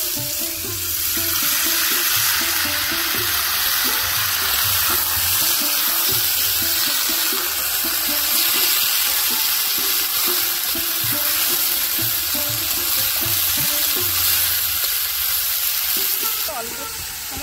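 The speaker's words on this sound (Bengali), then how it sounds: "তেল একদম গরম হয়ে গেছে। এবার এই যে কেটে রাখা কুমড়োগুলো দিয়ে দেবো।" Cut pumpkin pieces sizzle and fry in hot oil, a steady loud crackling that runs unbroken throughout, with faint clinks of stirring underneath.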